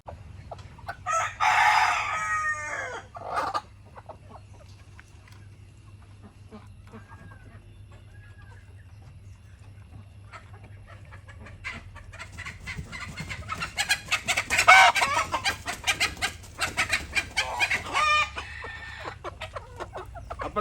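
Native hens cluck and a rooster crows, with bursts near the start and again later; quieter stretches in between carry a low steady hum.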